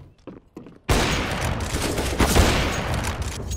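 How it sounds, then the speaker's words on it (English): Gunfire in a video game, a sudden loud burst of rapid shots after a few faint taps, continuing as a dense fusillade with irregular peaks to the end. "I want to pull out my pistol."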